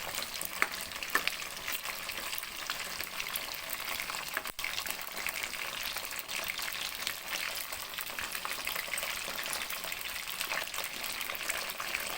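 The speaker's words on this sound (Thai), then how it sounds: "ทอดไปเรื่อยๆให้มัน ให้มันออกนะคะ" Fatty layered pork belly frying in hot oil in a pan, a continuous dense sizzle with scattered sharp pops and crackles, steady and close throughout.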